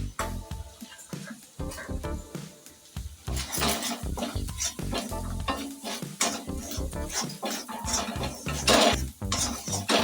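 Egg noodle masala with garam masala fries in a pan while a utensil stirs and clatters against the metal in uneven bursts over a steady sizzle.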